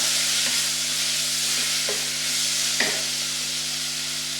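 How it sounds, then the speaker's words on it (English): Onions frying in a pot with garlic being added, giving a steady broadband sizzle with a couple of faint clinks and scrapes from stirring, fairly close and without talk. "The onions are coming along quite well, so I'm just going to add the garlic into"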